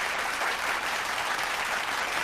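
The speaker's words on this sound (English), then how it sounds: "Let's clap that up." A steady wash of applause with many hands clapping together, holding an even level throughout, set in a hip-hop podcast recording.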